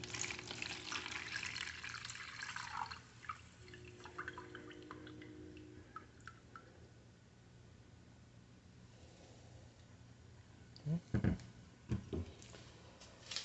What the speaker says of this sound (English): pour the rest of the solution in the container